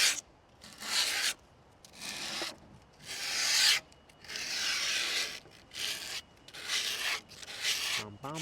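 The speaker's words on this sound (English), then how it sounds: "I always like to do a final sanding of the edge" Rough rasping strokes of sandpaper or a file along the edge of skateboard grip tape, coming in repeated bursts about a second long with short pauses between them. The sound is close and dry, with no talk.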